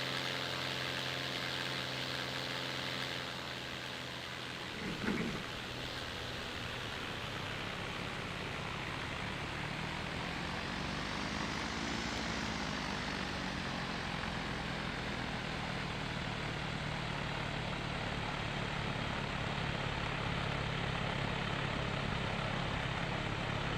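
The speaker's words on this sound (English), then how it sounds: "You see it's one of the tow planes going along." A glider tow plane from a virtual gliding competition drones steadily past, a continuous propeller engine hum that swells gently around the middle and then holds, with one brief knock early on.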